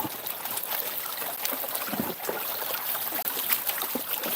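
A gold pan is swirled in creek water in Georgia, giving a continuous close sloshing and trickling with small splashes and gravel rattles, loud and unbroken, with no talk.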